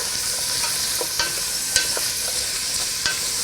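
Onions fry in butter in a pot for creamy chicken and rice soup, a loud, steady sizzle broken by a few sharp scraping stirs of the spoon.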